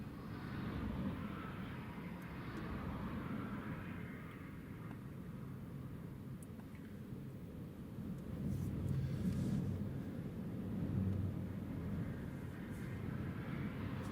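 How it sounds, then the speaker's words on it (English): An Eastern Airways airliner taxiing back along the runway at Newcastle Airport during a storm, a faint, steady distant engine rumble and whine that swells slightly midway, with no talking. "That's Eastern Airways backtracking down the runway."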